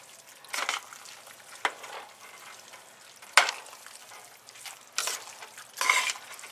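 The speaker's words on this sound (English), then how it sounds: "I'm just going to kind of mix that in like that so that that Parmesan melts on in there" Turkey tetrazzini with Parmesan stirred through it in a pan: soft scraping strokes and a light sizzle return in several bursts, close and moderately quiet, with no talking.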